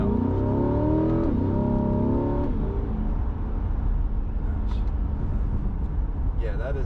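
A Chevrolet C8 Corvette accelerates in sport mode through light traffic, its engine note climbing through revs under someone talking, then settling into a steady cabin drone.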